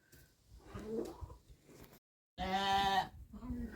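A loud sheep bleat rises clearly after a short silence, with softer animal noises and faint murmuring before it and a brief lower call after.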